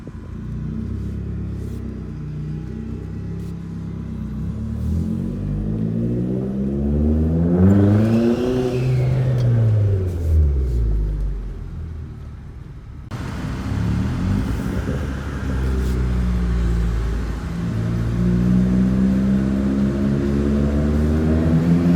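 A turbocharged Chevy Cruze with an eBay turbo revs hard, its engine note rising and falling through loud sweeping pulls, then a second burst of rough, throaty revving that stays strong and close throughout.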